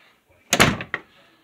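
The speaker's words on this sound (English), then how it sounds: "close the door, Bubba." A door is pushed shut in a single quick slam with a short rattle and a second knock just after, close by, with a voice speaking.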